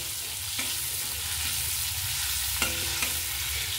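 Prawns sizzle in hot oil in a wok, a steady close frying hiss broken by a couple of quick scraping stirs of the spatula.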